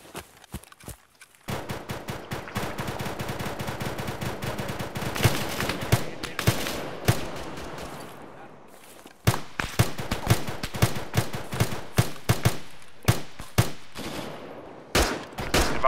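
Gunfire in the military game ArmA 3: loud rapid bursts of automatic fire and sharp single shots, dense and continuous with brief pauses, close to the listener.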